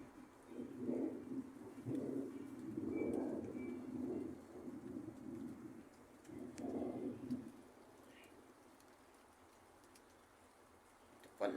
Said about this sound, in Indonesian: Ini suasananya malam, petir dan mendung. Guys, mau hujan guys.